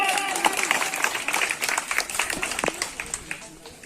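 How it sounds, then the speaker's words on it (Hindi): Brief round of applause for a teacher at a Teachers' Day event, quick uneven clapping from a small audience, fairly close, with voices mixed in. "मैम के लिए जोरदार ताली।"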